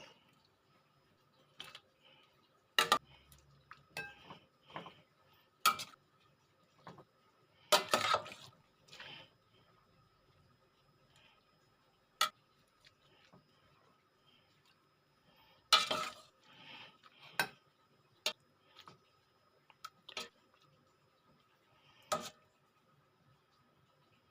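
A ladle scoops bamboo shoot and gourd curry from a cooking pot for serving, making scattered soft scrapes, clinks and liquid sloshes separated by quiet gaps.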